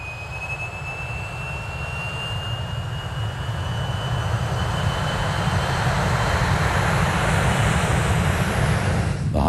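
Roar of B-58 bomber jet engines, a steady broad rumbling wash that builds slightly louder toward the end, heard alone with no voices.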